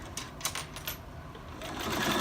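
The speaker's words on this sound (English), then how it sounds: "I come in with my 1/4 inch foot, and I just sew around." A sewing machine with a 1/4 inch foot stitches binding around the edge of a folded star quilted coaster, a steady quiet whirring run with faint clicks, growing slightly louder toward the end.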